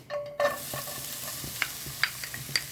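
Onion fries in oil in a pan with a close, constant crackling sizzle, broken by stirring scrapes and small metallic clinks, and no voices.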